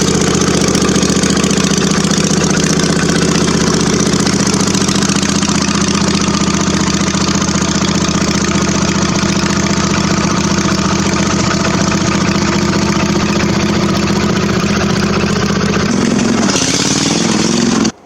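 A homemade Major Murray minibike engine runs steadily throughout, a loud, close mechanical drone with a rough idle-like rhythm that cuts off near the end.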